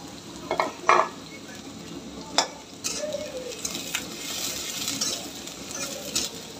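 Chopped onions and green chilies frying in hot oil in a home wok, a continuous close sizzle broken by sharp clinks and scrapes of a stirring utensil against the pan.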